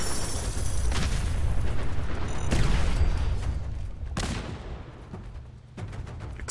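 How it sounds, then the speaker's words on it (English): Fallout 4 combat plays out with a dense series of booming explosions and gunfire, loud and rumbling, several sharp blasts standing out over continuous noise. "Explosions all around."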